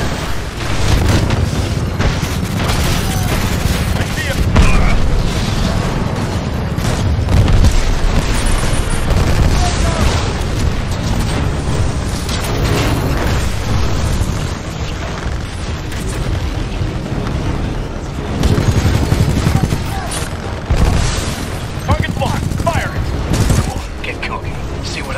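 Weapons fire and explosions from the Titanfall 2 video game form a dense, loud barrage, with heavy booms, rumbling blasts and bursts of gunfire running continuously throughout and mixed with in-game voices and effects.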